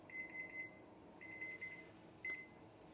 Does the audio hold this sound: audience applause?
no